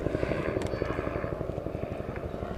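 A helicopter passes overhead during a fishing outing, a loud steady rotor thumping with a rapid pulsing beat filling the whole moment.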